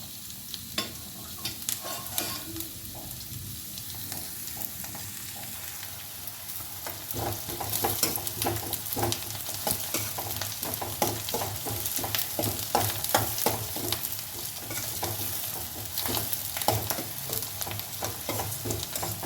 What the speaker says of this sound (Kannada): ಈರುಳ್ಳಿ ಇಷ್ಟು ಫ್ರೈ ಆಗಿದೆ, ಇಷ್ಟು ಸಾಕು ಈರುಳ್ಳಿ ಫ್ರೈ ಆಗಿರೋದು.